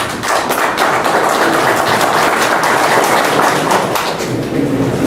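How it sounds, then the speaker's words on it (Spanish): An audience at an agricultural policy conference in Ecuador gives steady, dense applause after a speaker is introduced, continuous clapping that fills the whole stretch at close range. "para el cual pido un fuerte voto de aplauso"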